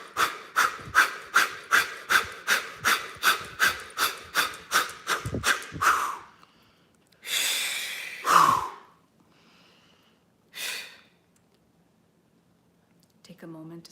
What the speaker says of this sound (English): So deep breath in and fire breath out.